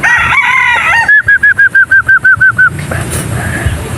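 Gamefowl chickens, a white Kelso and a black bird, on a farm: one close bird gives a rapid run of about ten evenly spaced, clipped calls, with quieter fowl noise before and after.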